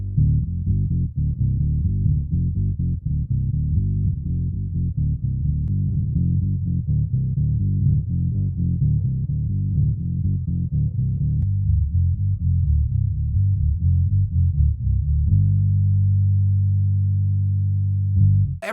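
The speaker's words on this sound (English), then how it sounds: "Boss, faithfully reproduces the mono-octaver sound of the original OC2." Bass guitar played through a Boss OC-5 octave pedal in its mono vintage OC-2 style mode, giving a thick, deep octave-down line of steady notes that ends on a long sustained low note, loud and alone with no talk.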